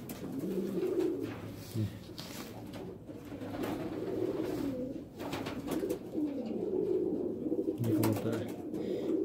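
Pigeons coo close by in repeated low, throaty rolling calls that overlap and swell in loose phrases, with a few brief higher chirps and faint background noise throughout.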